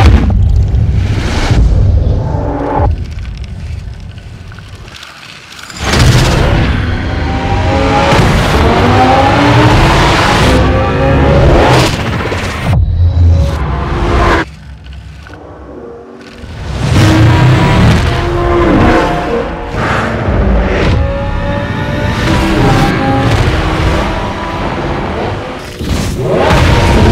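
Sound effects captured for a Lamborghini promotional piece: loud car engine roars and revs mixed with heavy booms, impacts and skids, in bursts separated by short near-silent gaps.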